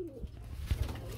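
Domestic pigeons at a pigeon farm selling birds give a couple of soft, low coos over a steady background hum, fairly close by.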